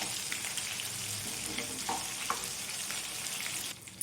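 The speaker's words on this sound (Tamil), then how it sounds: "இப்போது ஃபிஷ்ஷு பார்த்திங்கன்னா வந்து ஒரு சைடு நல்லா ஃப்ரை ஆகிடுச்சு இப்போது இன்னொரு சைடு திருப்பி விடலாம்" Fish fries in hot oil in a pan, giving a steady, dense sizzle and crackle close by throughout, with a couple of brief pops and a slight drop near the end, no talking.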